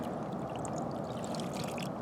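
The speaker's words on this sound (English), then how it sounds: "Now I fill the pan with water." Water pouring and sloshing into a gold pan loaded with hard ore, a close, steady gurgle lasting a couple of seconds.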